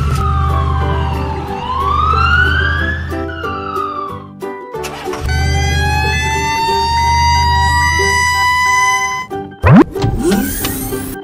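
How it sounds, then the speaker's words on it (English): Toy police car siren wailing loudly and continuously with rising and falling tones, a brief pause midway, then a few boing-like plops near the end. "Black police car."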